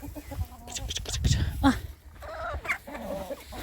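A Faverolles hen clucks in short bursts close by on a small farm flock, with other poultry sounds and a person talking over parts of it.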